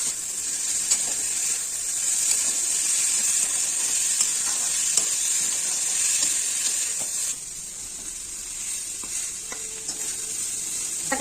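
Eggplant pieces fry with fenugreek greens in a pan, giving a bright steady sizzling hiss with occasional stirring clicks; the frying grows quieter partway through and no one speaks.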